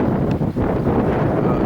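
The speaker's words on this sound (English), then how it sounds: "it's quite breezy" Wind gusts across a hilltop in Glen Artney, buffeting the microphone with a loud low rumble that drops out briefly partway through, with no talking.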